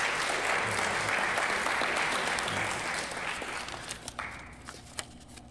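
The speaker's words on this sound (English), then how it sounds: "Let's give Mr. Allen a round of applause" An audience applauds a closing speaker at a senior scholars' symposium, a dense round of clapping that thins and fades out, leaving a few scattered claps and footsteps at the end.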